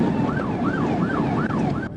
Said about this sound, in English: When the driver hears the sirens, she slows down and turns on her flashers.